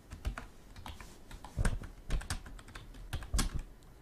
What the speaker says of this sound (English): I'll be typing in your ear for about 2 seconds here